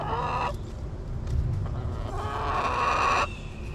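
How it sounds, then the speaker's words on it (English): Chickens clucking and murmuring close by, a steady low flock chatter with a few brighter calls, no talking. "as you can see, the chickens are all around me"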